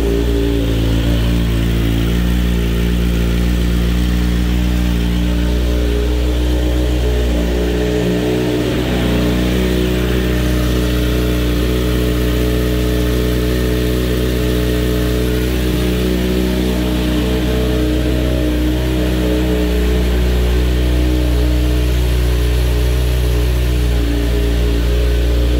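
A Kawasaki Z900RS motorcycle idles steadily at roughly 1100 RPM after warming up, a close, continuous engine drone with a brief dip in the middle and no talk over it.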